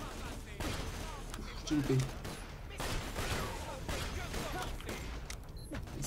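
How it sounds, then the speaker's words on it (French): Gunfire from the video game Borderlands rattles in short bursts beneath someone talking in French over game sounds. "J'entends des tirs."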